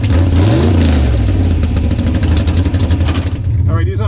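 A 1961 Corvette gasser drag car engine revs hard at the strip, a loud, close, rasping roar with a pulsing, choppy beat that fades near the end. Faint voices sit under the engine.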